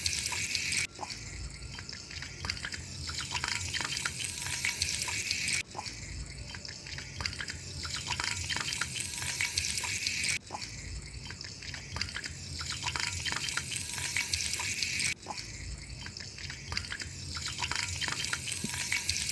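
Crispy home-made KFC-style chicken pieces deep frying in oil make a dense, continuous bubbling sizzle, close and steady, with brief breaks every few seconds.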